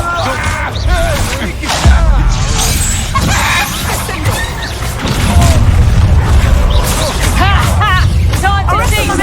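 Descendo spell effects in the video game Hogwarts Legacy burst out as booming impacts and crashing thuds amid combat, with voices speaking over the loud, busy mix.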